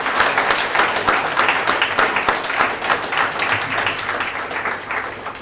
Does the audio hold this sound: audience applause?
yes